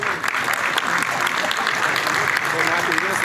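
An audience at a developer conference applauds steadily as a speaker is welcomed to the stage, with dense, loud clapping that holds throughout.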